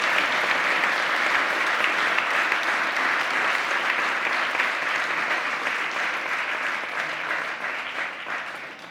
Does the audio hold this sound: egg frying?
no